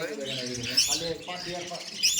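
Birds at a bird farm, including cockatiels, chirp and tweet in bright, close calls, with a couple of sharp whistles over a voice speaking.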